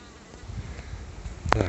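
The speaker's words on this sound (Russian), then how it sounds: "Ну, вот одна пчелка какая-то ко мне примастырилась." A honey bee buzzes close by on a hot summer day near flowering linden trees, a faint drone that swells into a brief, louder pass near the end.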